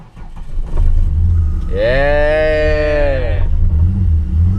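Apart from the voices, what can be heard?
1999 Holden VT Commodore engine cranking and revving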